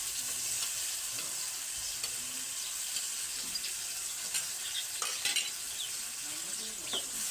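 Onion and masala frying in oil in a pan, a soft steady sizzle with occasional stirring scrapes and clicks of a spoon, close but fairly quiet throughout.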